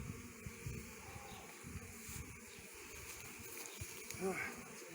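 Honey bees buzz faintly around an open beehive during an inspection, a soft, wavering drone under background noise and handling sounds.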